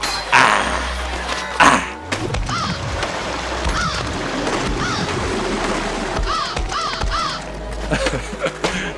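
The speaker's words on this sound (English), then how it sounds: "a bird." A bird caws a few times in the OlliOlli World skateboarding video game, mixed into busy game music and effects, moderately loud but partly buried in the mix.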